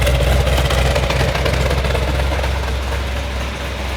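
A car engine on its first start after a build idles steadily with a loud, rough low rumble, running continuously without revving.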